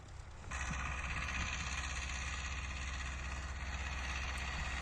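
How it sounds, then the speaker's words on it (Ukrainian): A small tractor discing a field before buckwheat sowing: after a brief quieter start, the engine rises into a loud, steady droning rumble that holds unchanged to the end. "Одразу дискуємо іншим тракторцем."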